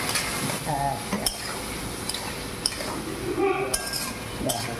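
Pointed gourd and potato stirred in a pan with dadhi mangal, a busy sizzle under scraping and clinking of a utensil against metal, close and fairly loud throughout.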